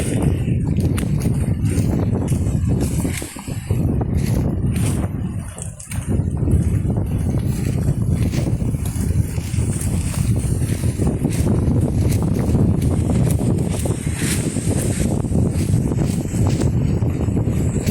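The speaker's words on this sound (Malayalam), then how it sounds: "നല്ല കാറ്റുണ്ട് കേട്ടോ" Strong wind buffets the microphone on a bridge leading to a houseboat terminal near Kainakary village: a continuous loud roaring rush that briefly eases around the middle, with faint scattered knocks underneath.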